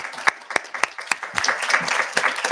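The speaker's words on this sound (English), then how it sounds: "Can we give them a round of applause," A small audience at a Senate meeting gives a round of applause, starting with scattered distinct claps that build into a denser, steady clapping close by.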